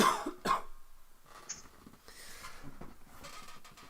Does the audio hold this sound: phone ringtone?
no